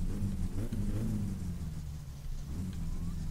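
A car engine in the video game My Summer Car idles with a steady low rumble, droning evenly throughout with slight fluctuations and no voices.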